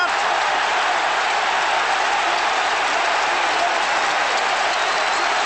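A football crowd at a Chelsea versus Tottenham match applauds a goal by Zola, a dense, steady roar of clapping that fills the whole stretch without letup.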